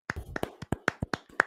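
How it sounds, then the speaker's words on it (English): About nine sharp, close claps sound in quick, slightly uneven succession over a second and a half, a brief round of applause for a pitcher's complete-game shutout. "Round of applause."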